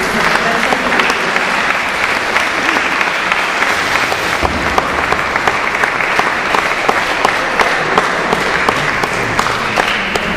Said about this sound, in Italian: Un grosso applauso finale